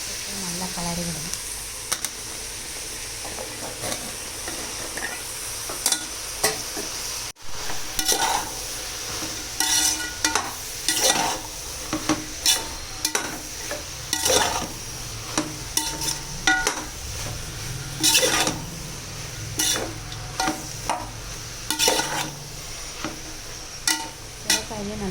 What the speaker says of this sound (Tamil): நல்லா கலரி விடணும்